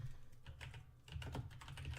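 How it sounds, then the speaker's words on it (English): Rapid computer keyboard typing during a podcast recording, a close, irregular clatter of key presses with a brief pause near the middle, no talking. "I'll do that on the computer to be professional so you guys can hear the keyboard typing"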